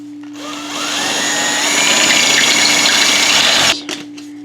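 A power drill whines steadily for a few seconds at close range while drilling during a Mazda Miata convertible top replacement, then cuts off abruptly, followed by a brief rattle.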